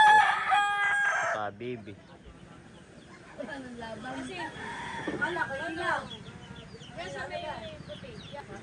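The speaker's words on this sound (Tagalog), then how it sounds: "Dami po dito manok." A rooster crows loudly at the start, followed by scattered chicken clucks and calls over a busy farmyard, with people talking nearby.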